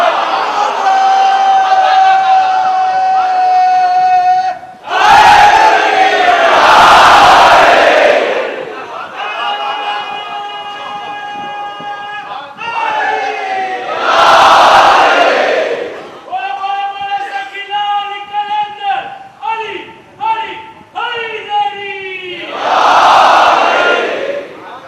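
Large majlis crowd bursts into Nara-e-Haidari slogan chanting in loud repeated waves, three or four roaring swells alternating with passages of amplified sermon speech.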